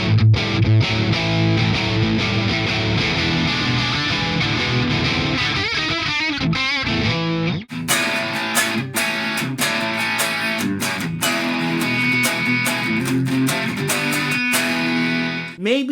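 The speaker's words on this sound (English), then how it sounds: "Now I'll show you how the NAM captured version of the JCM 800 sounds on this." An electric guitar runs through a Sonicake Ampcube mini amp using a NAM capture of a Marshall JCM 800, playing heavily distorted chugging riffs and sustained chords, loud and alone with sharp palm-muted stops.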